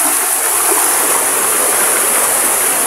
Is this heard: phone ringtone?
no